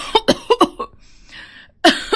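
A woman lying sick in bed coughs several times in a quick burst, then a soft breathy pause, then another cough, close and clear, with no talking.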